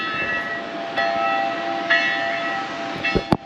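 Church bells ringing across Lourdes, a single broad strike standing out against a steady tonal ring, with a couple of sharper knocks near the end, heard from a distance outdoors.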